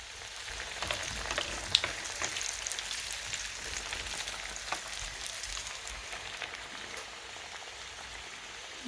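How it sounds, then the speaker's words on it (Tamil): Potato patties fry in hot oil, making a continuous, fine crackling sizzle with scattered sharper pops at moderate loudness and no voices. "எண்ணெய் கொதிச்சுட்டுது போடுறேன்"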